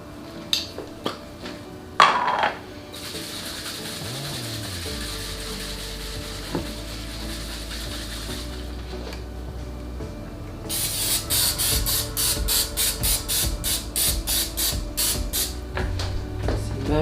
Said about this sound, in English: so I'm going to spray the pan.